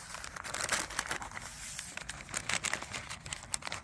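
Greaseproof paper wrapping torn and unwrapped from a package, with repeated crinkling, crumpling and sharp tearing rustles in irregular bursts, close and fairly loud, no speech.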